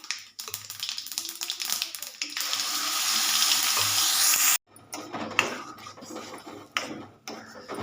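Onion chili paste frying in a pan over a low flame, a steady sizzle that swells into a broad hiss and then breaks into scraping and stirring, close by with faint talk now and then.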